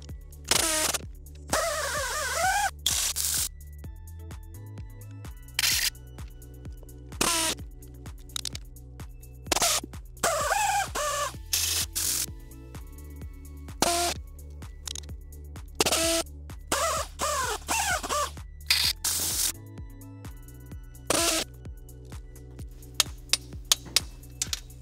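A torque wrench tightens the transmission mounting bolts on an Eclipse GSX, giving repeated sharp ratcheting clicks and metallic clinks in short bursts, close and crisp, spread across the whole stretch with brief pauses between bolts.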